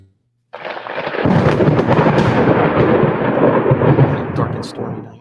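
Heavy thunder on a dark, stormy night, breaking in after a brief silence and rolling into a long, loud, continuous rumble mixed with the hiss of steady rain.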